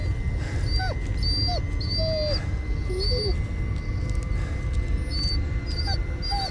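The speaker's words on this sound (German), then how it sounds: "das Gewinse von dem Hund geht mir ein bisschen auf die Ketten." A dog whimpers in the horror game Blair Witch, giving repeated short, high whines and thin yips at intervals over a steady low ambient rumble.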